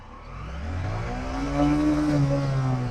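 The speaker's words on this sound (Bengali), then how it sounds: "স্টার্ট করি ফার্স্ট গিয়ার গাইস ফার্স্ট গিয়ারে কত স্পিড আসবে" A vehicle engine pulls away in first gear, its revs climbing steadily in a rising drone that grows louder, close and continuous with no talking.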